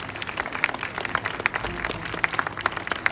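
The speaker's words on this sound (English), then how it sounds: "golf clap." A small group claps softly in a gentle golf clap, scattered light hand claps spread evenly across the moment at moderate distance, with no voices over it.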